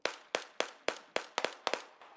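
Rifles fire during a snowy forest military exercise, with sharp shots cracking out at a steady rhythm, then a quicker pair and a few more reports.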